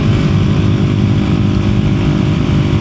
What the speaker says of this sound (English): I keep hitting the rev limiter because this bike just wants to go